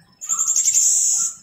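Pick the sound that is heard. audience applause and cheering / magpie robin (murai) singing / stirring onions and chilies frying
magpie robin (murai) singing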